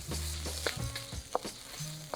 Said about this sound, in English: The egg doesn't take much to cook, so just kind of move it around so it doesn't get burnt